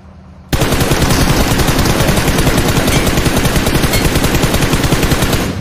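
An AKM rifle in a video game fires a full-auto spray, a loud, dense, unbroken stream of rapid shots lasting several seconds after a brief quiet start.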